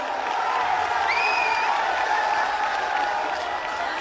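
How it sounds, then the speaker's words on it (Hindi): Steady crowd applause, broad and continuous throughout, with a faint whistle or cheer rising briefly in the middle. "एक बार जोरदार तालियों के साथ"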